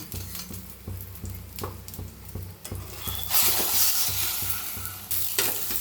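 A little oil dribbled around a chapati on a hot tawa sets off a sizzle that swells sharply partway through, over a rhythm of repeated low taps and scrapes from close by.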